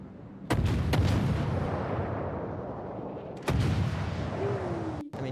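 Warship guns fire shells in World of Warships: Legends, several sharp, loud booming salvos spaced a few seconds apart, each leaving a rumbling tail.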